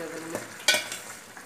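Vegetables for a veg kurma being stirred in a pan with a spoon, a soft scrape and a louder clatter partway through over a faint sizzle, close and with no talking.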